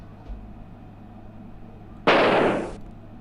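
A single gunshot fired while hunting in the video game The Oregon Trail, a sharp loud crack that rings out and fades over about half a second above quiet background.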